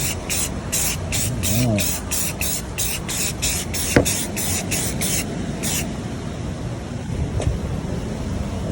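Rust-Oleum flat deep forest green spray paint hisses in a rapid series of short close bursts while a 3D-printed toy aircraft is painted, ending in one longer spray; a voice speaks briefly.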